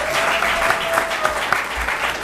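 An audience at a White House men's health dialogue claps in brief, steady applause from a modest crowd, moderately close.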